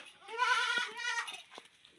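Goats bleat loudly and close by, several wavering calls overlapping in quick succession, with no talking.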